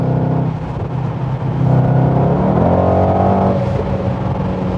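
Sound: Mercedes-AMG GT63S accelerating hard

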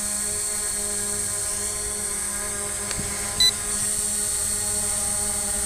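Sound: JJRC X17 toy drone propellers flying

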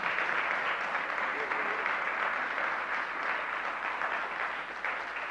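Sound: audience clapping for the helpers

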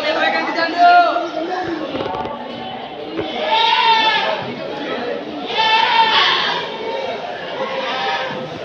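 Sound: goats bleating at Deonar goat market

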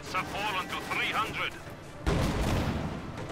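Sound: rifle grenade explosion in Company of Heroes video game

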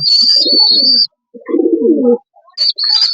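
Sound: pigeons cooing

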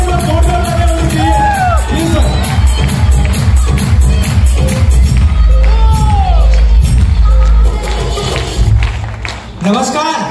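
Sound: audience applause

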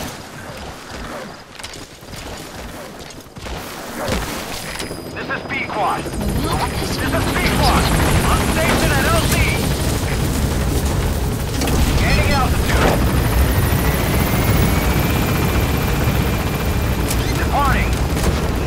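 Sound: support helicopter arriving in Metal Gear Solid V video game

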